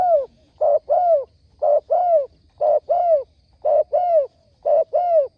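A wild spotted dove coos in repeated paired phrases, each a soft hooting note followed by a longer one, spaced evenly and fairly close, with no other sounds.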